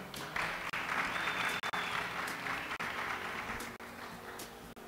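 Audience applause at a talk on HTML5 game programming, sustained even clapping heard at a distance and fairly quiet, with brief gaps and no speech over it.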